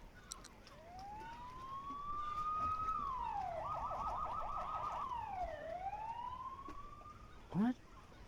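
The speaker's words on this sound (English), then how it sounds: "I hear many sirens approaching the motel." Police siren in The Supper video game, rising and falling in long wails as it nears a motel, then a brief sharp blip at the end, fairly faint overall.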